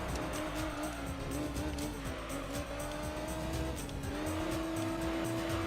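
A Honda NSX race car in Gran Turismo 3 holds a loud, sustained high engine drone that climbs a step in pitch on an upshift, with other cars roaring close around it.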